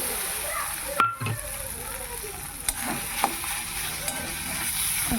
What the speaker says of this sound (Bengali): তেলে একটু ভালো করে ভেজে নেব